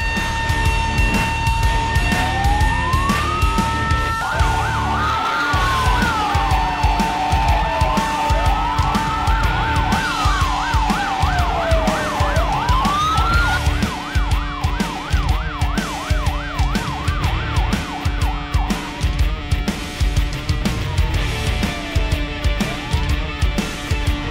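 Fire engine sirens from a Jakarta fire and rescue truck wail continuously in rising and falling sweeps, loud and near, with a rapid yelp pattern and rumbling engine and road noise as the truck drives through traffic.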